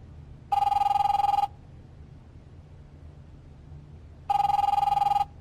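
An in-game telephone in The Wolf Among Us rings twice, each ring a bright electronic trill of about a second, separated by a few seconds of low background hum.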